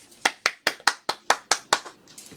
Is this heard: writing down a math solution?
no